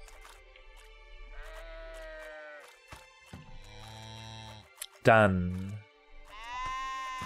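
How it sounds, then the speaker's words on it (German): Sheep bleating in the farming video game A World of Little Legends, several separate game bleats spread across the clip, one loud close bleat near the end, with game sounds and a brief spoken word. "Unsere Schafe müssen geschoren werden."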